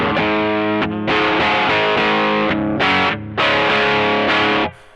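Electric guitar played through a TC Electronic Dark Matter distortion pedal at low gain, sustained crunchy chords with brief gaps between strums, loud and close, ending abruptly.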